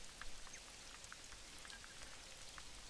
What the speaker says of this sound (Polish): Aha, deszcz pada.